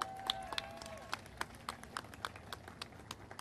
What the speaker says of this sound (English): So please give him and his team a round of applause again.